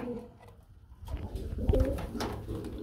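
Pigeons cooing nearby, low throaty coos rising after a quiet start, with some soft rustling.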